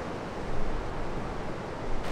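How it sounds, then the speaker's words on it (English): Surfable ocean waves on a windy Caribbean coast, a steady broad roar of surf with wind rumbling across the microphone, continuous and fairly loud with slight swells in intensity. "definitely some surfable waves there"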